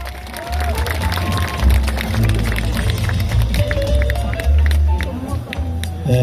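Audience applause welcoming an arriving guest, the Gimhae mayor, at an outdoor Buddhist temple music concert in Gimhae, a steady dense wash of clapping from a crowd with voices and bustle mixed in throughout.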